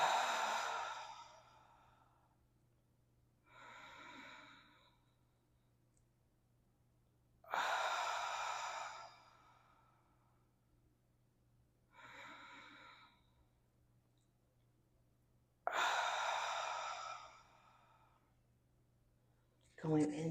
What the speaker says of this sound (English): we're going to take 3 deep inhales and exhales. Make them audible.